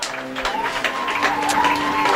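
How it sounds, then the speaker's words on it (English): A college baseball crowd at the Heartland Tournament, St. Mary's against TAMIU, gives steady, moderately loud applause as pitcher O'Neill leaves the game after 8 2/3 innings. "And O'Neill getting a nice hand from this crowd"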